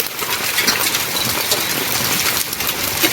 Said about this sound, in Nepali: ओ माई गड, कत्रो असिना परेको।